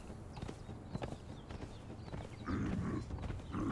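A ridden horse in the video game Conan Exiles clip-clops in a steady hoof rhythm that grows louder partway through, with no talk over it.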